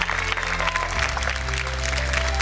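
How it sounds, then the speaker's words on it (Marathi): Audience clapping at a televised women's game show, a steady wash of applause with a low musical drone underneath, continuous and even in level. "एकदा जोरदार टाळ्या होऊन जाऊ देत त्यांच्यासाठी"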